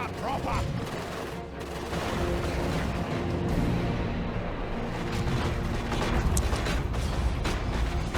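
Touch of Nurgle explosions burst in the Dawn of War 2 Retribution game, a dense stream of booms and gunfire-like crackle. It is loud and continuous, with voices of commentators mixed underneath.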